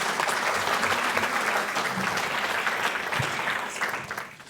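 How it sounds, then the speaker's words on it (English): Audience applause for the Edison Rotary Club's students of the year at an awards gathering, a steady dense wash of clapping that holds for about four seconds and then starts to taper off. "Another round of applause for the students of the year."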